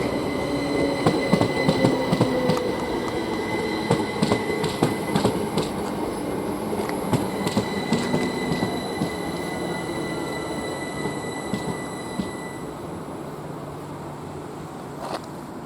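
A train with a Class 159 unit on the back departs Didcot Parkway on the Great Western Main Line. Steady wheel rumble, clickety-clack and high squeals go on throughout, loud and close, slowly fading as it pulls away.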